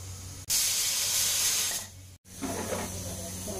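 Pressure cooker with rice inside letting off its whistle, a loud hissing steam burst that fades, a brief break, then softer sputtering steam, close by in a kitchen.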